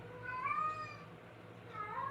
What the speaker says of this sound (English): you'll hear my cat